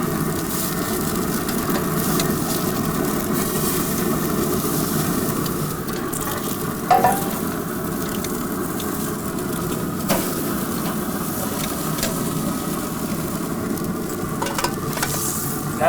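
Steak sears on a Pit Boss griddle in avocado oil, giving a continuous, close sizzle with occasional scrapes and clicks as the meat is turned.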